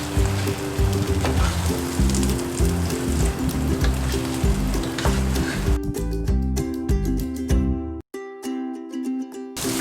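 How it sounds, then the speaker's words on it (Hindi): Rice sizzles and fries steadily in leftover oil from cooking mutton for Hyderabadi mutton tahari, a loud continuous crackle under background music that cuts out near the end. "इसी ऑयल से हम लोग राइस को फ्राई करेंगे, जिस ऑयल में हमने मटन को बनाया था।"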